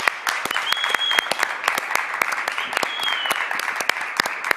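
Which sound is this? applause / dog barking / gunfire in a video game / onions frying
applause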